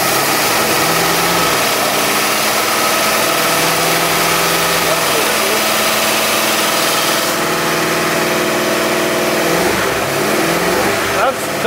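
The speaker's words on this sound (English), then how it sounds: "ignition on, cranking over." An old barn-find car's engine cranks over and catches, then settles into a loud, steady idle with a slightly rough tone, while a person talks over it.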